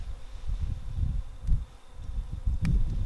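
Low, fluttering buzz of bees drifting close and away around alfalfa blossoms on a farm, with a light breeze and occasional brief rustles.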